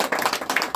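Brief patter of many hands clapping from a crowd at an outdoor political rally in a village, moderately loud and steady for under a second.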